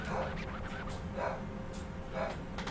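Dogs bark and whimper in a few short bursts, heard from a short distance over a steady low background hum; no one speaks.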